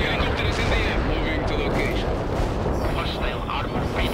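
A fuel air bomb detonates in a tank video game, a dense, loud, sustained roar of blast and rumble that fills the whole stretch without letup.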